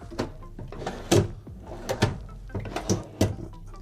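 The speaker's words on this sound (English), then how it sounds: "we have drawers and more drawers, and they keep coming." Several short wooden knocks and slides as storage drawers in a 2022 Newmar Dutch Star 4081 motorhome are opened and shut, spaced irregularly, close by, with faint speech in between.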